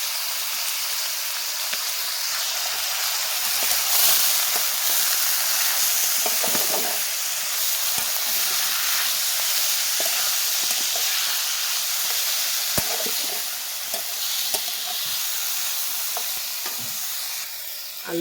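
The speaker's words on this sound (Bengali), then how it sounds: "আলুটাকে আমি ভেজে নেব।" Potatoes sizzle steadily in hot oil in a pan, a continuous bright frying hiss with occasional soft stirring scrapes and pops, close and fairly loud throughout with no talking.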